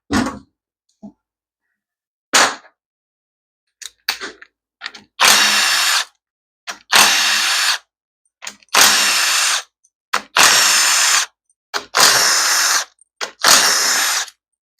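Power tool bursts loosening the valve body bolts on a 4R75W automatic transmission, about seven separate whirring runs of a second or so each, close and loud, with short gaps and clicks between them and no talking.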